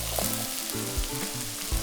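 Marinated meat and vegetables fry in a pan for a Moroccan-style goulash, giving a steady close sizzle with a few faint scraping stirs and no talk.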